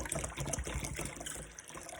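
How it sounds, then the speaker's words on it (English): Water poured into a bowl holding an egg, a close, steady splashing and gurgling fill lasting about two seconds with no talk over it. "Put some more water in there."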